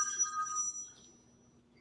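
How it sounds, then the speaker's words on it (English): A telephone rings with a short electronic trill that stops within the first second, leaving faint room hum and a tiny click at the end, with no talk. "The phone is ringing"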